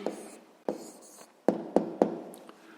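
Pen writing an answer on paper while working a sixth-grade maths exercise: a few scratchy strokes and taps, the last ones sharper and closer together, close and fairly quiet, with no talking.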